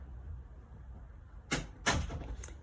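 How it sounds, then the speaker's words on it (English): A door shuts in two quick knocks about a third of a second apart, the second louder, followed by a faint rattle, against a quiet room with low background hum. "Close the door"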